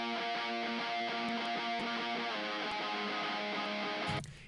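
Distorted nu-metal guitar lead played in octaves over a heavy chorus, a steady sustained melodic line riding a dense wall of mix, loud and continuous until it cuts off near the end.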